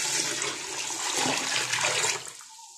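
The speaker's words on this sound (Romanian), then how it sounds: "Acopăr ciolanul cu apă rece." Cold water runs steadily into a 10-litre pot over a smoked ham hock, a continuous splashing pour for over two seconds that stops abruptly near the end.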